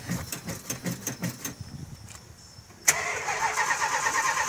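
A 1978 Chrysler Cordoba with a hard-starting engine on a hot day: a starter cranks unevenly for a couple of seconds, pauses, then the engine catches abruptly and runs loudly with a rough, steady idle.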